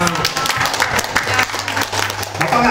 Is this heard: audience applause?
yes